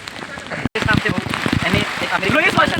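Rain pours down outdoors as a dense, close patter of drops on surfaces, continuous for a few seconds with people talking over it.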